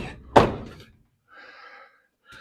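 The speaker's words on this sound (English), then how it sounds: "if I drop the door" A car door dropped in a home garage during a cheap do-it-yourself car or truck paint job: one loud, heavy thunk up close, followed by quieter, uneven tonal sounds.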